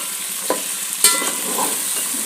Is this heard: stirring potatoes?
yes